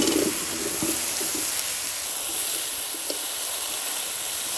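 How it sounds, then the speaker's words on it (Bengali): Salted bottle gourd hisses steadily while being stir-fried in a pan, a close, even sizzle that holds without a break, with a few faint scraping touches near the start and no voices. "লাউ ভালো করে কষিয়ে নিচ্ছি"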